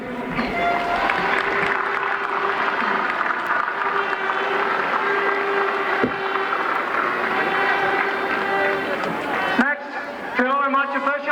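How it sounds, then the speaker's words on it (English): Crowd applause at a Tyrone GAA senior championship final, Errigal Ciaran versus Carrickmore, as a sustained loud wash of clapping and cheering with crowd noise, ending with a brief dip and a swell of voices. "Full applause to Carrickmore"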